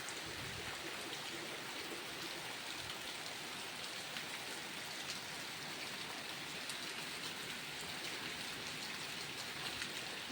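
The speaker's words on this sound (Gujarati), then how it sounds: "જોરદાર વરસાદ, હમણાં કચરું પાણીથી તરબો થઈ જાય." A steady downpour of heavy rain, a thick unbroken hiss of water falling and splashing nearby, constant for the whole stretch.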